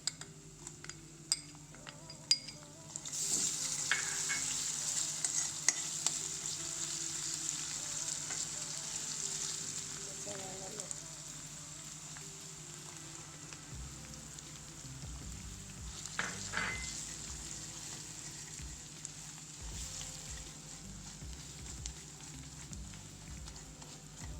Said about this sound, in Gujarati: ચણાના લોટને સારી રીતે શેકાવી દેવાનો